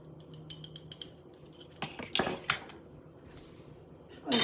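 Metal spoon scraping and clinking against a cooking pot while nihari is stirred, several sharp clatters in quick succession followed by a louder clank at the end, close and fairly quiet.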